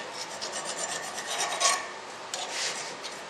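A file rasps steadily against the outer edge of a guitar tuner part, beveling it in quick, close back-and-forth strokes with no talk.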